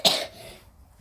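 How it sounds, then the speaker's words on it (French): A single sharp cough bursts out close up, then fades into a quiet room with a faint tail. "Ça tousse."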